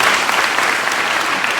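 A church congregation at a Baptist harvest festival applauds, a dense, steady wash of many hands clapping close by with no pauses.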